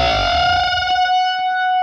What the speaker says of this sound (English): So it's where you bend a note, but you leave the other note where it is, and they end up coming together